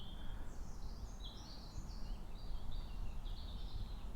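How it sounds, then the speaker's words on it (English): Birds singing outdoors at a quiet wild campsite, a run of bright chirping phrases carrying over a steady low rumble of wind or background noise, moderately faint with no talking. "So you just got it's just the sound of the birds."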